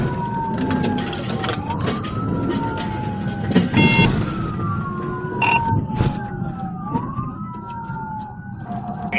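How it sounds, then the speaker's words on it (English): Police car sirens wail loudly nearby during a pursuit, their pitch sweeping up and down over engine and road noise, with brief radio-like chirps. "As officers activated their emergency lights and sirens, the suspect accelerated,"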